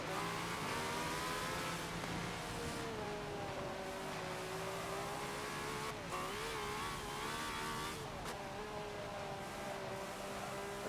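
A 1976 Ferrari F1 race car engine roars steadily in the Forza racing game at the Nordschleife, a loud continuous high-revving whine with small pitch shifts as it shifts and accelerates, with no talk.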